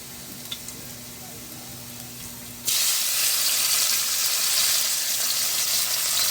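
Vegetables and tomatoes hitting hot oil in a pan, a sudden loud sizzle bursting in midway after a quiet stretch and then hissing steadily.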